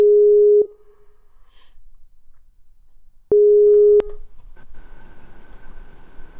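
Steady electronic ringback tone while calling a phone, two long beeps separated by a gap of near silence, clear and close, then faint background noise and rumble as the line connects.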